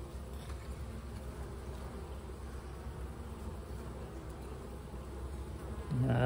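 Steady, dense buzzing of honeybees during a beekeeper's inspection of an open hive, a continuous close swarm drone filling the whole stretch, growing louder near the end.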